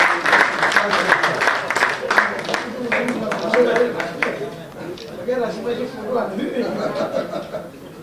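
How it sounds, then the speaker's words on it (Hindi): An audience at a mushaira poetry gathering in a mayor's hall bursts into loud, dense applause. Scattered chuckles run through it, and voices carry on underneath as the clapping slowly thins out. "एक बार जोरदार तालियां बजाएं आप लोग इनके लिए।"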